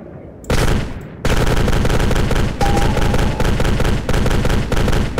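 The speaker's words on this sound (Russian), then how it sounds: "А, это типа пулемёта." Machine gun fire in the video game Delta Force: loud sustained automatic bursts, several long strings of rapid shots broken by short pauses.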